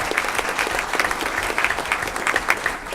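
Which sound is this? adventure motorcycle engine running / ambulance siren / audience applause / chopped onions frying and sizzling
audience applause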